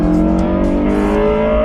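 1999 Honda S2000 engine revving while driving, a loud, sustained, harmonically rich engine drone heard from inside the car, steady throughout with no talking.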